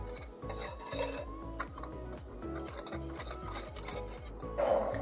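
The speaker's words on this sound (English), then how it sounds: "So to the flour, we add in baking powder, salt, sugar, and then whisk." A whisk clatters briskly against a bowl, mixing flour with baking powder, salt and sugar for sourdough discard scones, with a quick, even ticking rhythm heard close up.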